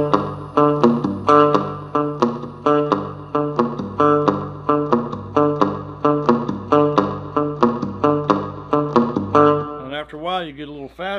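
A rock riff on a cigar box guitar with hammer-ons, a steady, repeating run of twangy plucked notes played close and loud, ending in a sliding, wavering bend.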